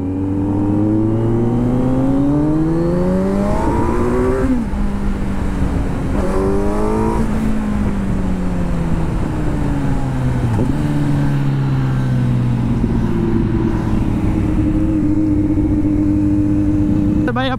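A Kawasaki Z900 motorcycle accelerates hard and repeatedly, its engine note climbing through rising gear pulls, dropping at each shift and climbing again, loud and close throughout with continuous roaring exhaust and steady wind noise.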